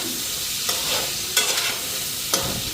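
Turmeric, salt and spices fry in a pan alongside cauliflower, a steady sizzle broken by a few sharp scraping stirs of a spoon, close and fairly loud with no talking.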